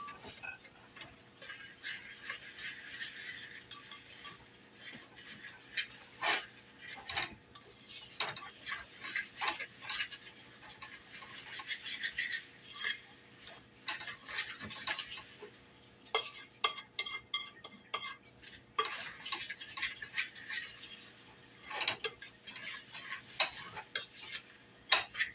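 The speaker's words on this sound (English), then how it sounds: "I'm going to give that a little stir." A spoon stirs spice cake batter with melted butter in a bowl. The soft, quiet scrapes and light ticks repeat steadily and closely for the whole stretch, with no talking.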